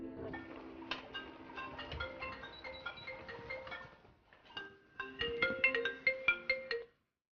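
A phone ringtone plays as a call goes through, a melodic tone pattern that pauses briefly and resumes brighter, moderately quiet and heard alone.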